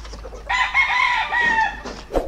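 A hen, a Karatsi breeding hen, gives a close, loud run of clucks and a drawn-out squawking call, ending with a short sharp cluck.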